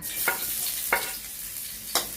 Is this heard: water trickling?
no